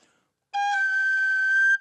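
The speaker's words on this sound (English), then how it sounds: "And the Irish whistle, that works in a similar way." An Irish whistle sounds one sustained, pure, bright note for just over a second, clean and close with no other sound around it.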